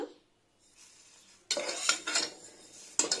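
Moong dal is dry-roasted in a pressure cooker on a stove, stirred with a utensil that scrapes and rattles the grains against the metal in close, busy bursts after a quiet start.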